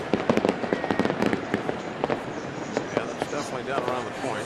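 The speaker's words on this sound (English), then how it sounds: "Thunder fireworks, huh? Just for the marathon weekend kickoff" Fireworks for a marathon weekend kickoff in Pittsburgh crackle and pop in rapid irregular bursts, rumbling like distant thunder, while people talk over them.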